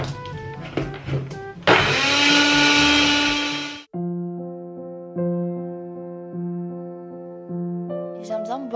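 A kitchen blender whirs loudly for about two seconds as it blends a smoothie of banana, mango, pineapple and oat milk, then cuts off abruptly and gives way to music.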